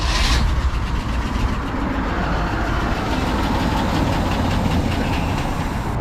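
A 1964 Ford N600 flatbed truck that sat for years idles with its engine running. A steady, loud, close rumble holds without pause.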